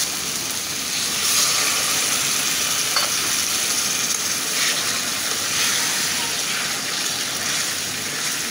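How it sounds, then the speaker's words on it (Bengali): Water is poured into a pan of sizzling lentils with fried spice paste, giving a steady hiss and splashy frying sound with light stirring. "আমি এখন একটু পানি দিয়ে দেব।"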